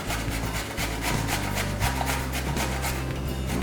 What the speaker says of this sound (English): So we're going to grate the cucumber.